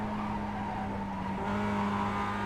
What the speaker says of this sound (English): See the oversteer in these Mazdas.